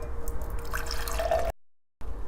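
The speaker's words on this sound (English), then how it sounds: "The tea is now ready, so I am going to pour this into a cup." Peppermint tea being poured into a cup, a brief trickling, splashing stream heard close up that cuts off abruptly partway through.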